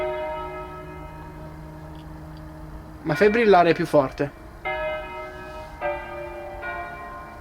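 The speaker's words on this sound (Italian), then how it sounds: "Queste campane mi fanno impazzire, però." Church bells ring at a church in the fog, a sustained tonal peal throughout, with someone speaking briefly over the bells partway through before the ringing carries on with fresh strikes.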